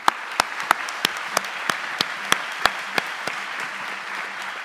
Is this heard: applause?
yes